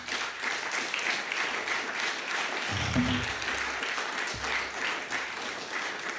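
A hall full of people at a political convention applauds, a dense, steady wash of clapping that holds evenly throughout without voices over it.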